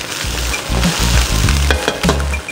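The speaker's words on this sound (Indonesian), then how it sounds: "Bawang putih, dan juga bawang merah. Tumis sampai wangi ya." Chopped garlic and shallots sizzle and crackle steadily in hot oil, with scraping stirs of a utensil against the pan, close and loud with no talking.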